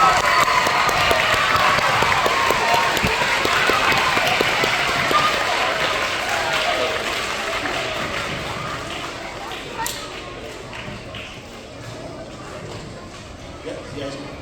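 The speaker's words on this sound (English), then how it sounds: "So let's go ahead and give kindergarten through second grade a round of applause." A school assembly crowd applauds kindergarten through second grade with loud, dense clapping that slowly fades over several seconds, and a few voices are mixed in.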